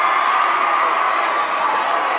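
A loud, steady roar of a crowd cheering and shouting at a sectional championship trophy presentation, sustained without a break.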